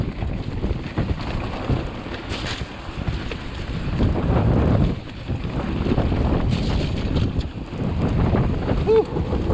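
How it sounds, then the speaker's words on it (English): Strong wind roars and buffets the microphone on a hillside trail at Cwmcarn, loud and continuous with gusts rising and falling. "Very, very windy."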